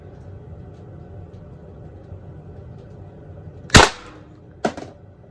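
Two sharp Pepperball TCP shots striking a metal target, the first loud with a ringing tail, the second softer about a second later, over a low steady background rumble.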